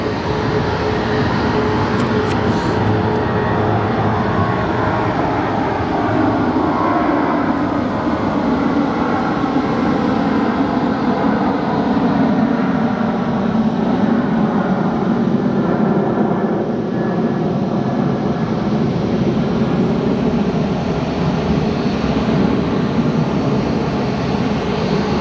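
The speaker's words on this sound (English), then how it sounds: "Departing now is that Max 8 for Denver." A Boeing 737 Max 8 roars down the runway on takeoff for Denver, a loud, steady broadband jet rumble that holds for about twenty-five seconds with no talk.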